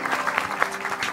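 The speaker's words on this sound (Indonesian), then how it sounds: "Tepuk tangan dong, Mas." A brief burst of audience clapping on a television talk show, a second of scattered claps with a faint voice underneath.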